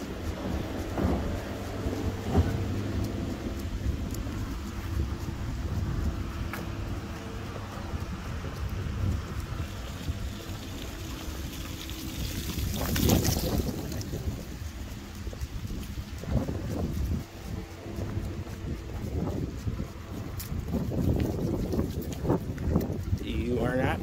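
Cold, stormy wind gusts outdoors on a walk with a Weimaraner, a steady broadband roar with a stronger gust midway, while a person talks throughout.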